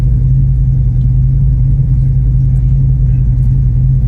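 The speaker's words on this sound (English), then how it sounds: "We got some heavy traffic." Heavy road traffic rolls past in a steady, loud low rumble of car engines and tyres, continuous throughout with no pauses, one vehicle blending into the next.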